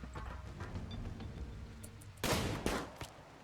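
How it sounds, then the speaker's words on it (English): Gunfire in the colony game RimWorld, a few muffled shots followed by a sharper, louder burst of bangs near the end of a short stretch. "We're getting shot from a couple of angles here."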